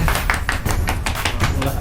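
Rapid hand clapping at a birthday party, a quick run of sharp claps close by with voices talking and cheering over them.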